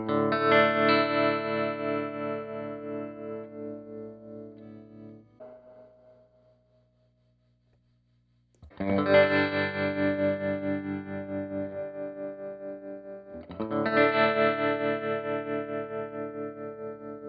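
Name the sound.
guitar through Fender Excel amp tremolo circuit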